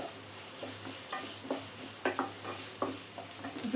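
Sliced onions stirred and sautéed in a pan for a potato and okra fry, with steady sizzling under repeated scraping strokes of a spoon against the pan. Close and fairly quiet, with no voices.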